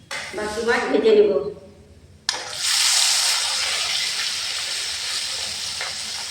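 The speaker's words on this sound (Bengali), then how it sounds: "বাকি মাছ ভেজে নেব।" Puti fish sizzle in hot oil in a pan, with a steady loud frying hiss that starts abruptly after a short stretch of speech.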